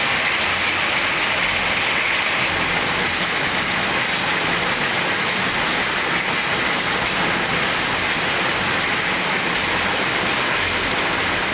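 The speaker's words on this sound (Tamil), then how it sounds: "இடி மின்னலுடன் கனமழை பெய்தது" Heavy rain pouring down steadily in Tamil Nadu, a loud dense continuous hiss of rain on surfaces throughout with no distinct thunderclaps and no voices.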